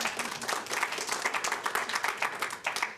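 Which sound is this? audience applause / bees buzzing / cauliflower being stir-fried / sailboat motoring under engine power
audience applause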